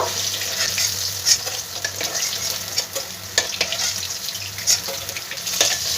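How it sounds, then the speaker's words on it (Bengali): Rohu fish pieces frying crisp in hot oil in a pan, a continuous close sizzle with scattered sharp pops and occasional clatters of a utensil. "খুব ভালো করে মাছগুলো আমি কড়া করে ভেজে নেবো।"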